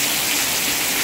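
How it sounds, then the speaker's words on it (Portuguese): Heavy rain downpour pours down steadily, a loud, dense hiss of water striking surfaces close by with no breaks. "Olha, gente, que chuvão que virou."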